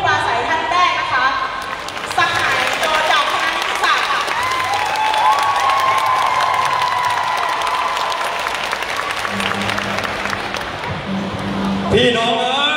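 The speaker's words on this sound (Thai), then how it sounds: "ขอเชิญทุกท่านปรบมือให้ผู้ปราศัยท่านแรกนะคะ" A rally crowd at a student protest applauds the first speaker, loud clapping mixed with some cheering and scattered voices, with a microphone voice and amplified tones cutting in near the end.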